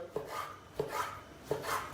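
Chicken meat being cut into thin strips with a knife for a Turkish chicken dish, three evenly spaced chopping strokes on a board, close and clear with no talk.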